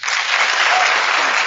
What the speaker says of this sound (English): listen to all the people clapping